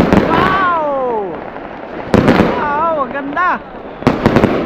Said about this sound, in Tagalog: Paputok mo sila.